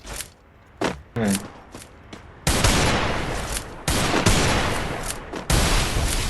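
Gunfire from a video game: scattered single shots early on, then dense, loud bursts of rapid firing that run almost continuously through the rest of the stretch.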